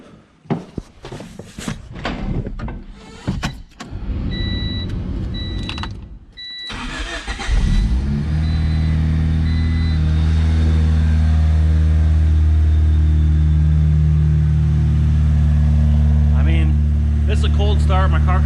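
A car engine cold-starts after some handling noises and voices. It catches with a short crank, then settles into a loud, steady high idle that holds for about ten seconds.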